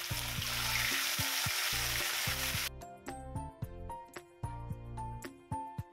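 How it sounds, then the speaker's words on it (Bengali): Pieces of rohu fish sizzle loudly in hot oil in a wok, a dense steady frying hiss for a few seconds that then drops away, leaving clinks and taps of a utensil against the pan. "মাছ ভাজবো তাই কড়াইয়ে তেল দিলাম।"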